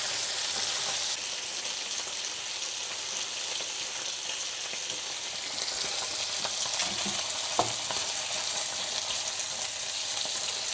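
Frankfurters fry in a pan with flavoured fat, giving a constant close, dense sizzle and crackle that holds steady, with a single sharp tap near the end.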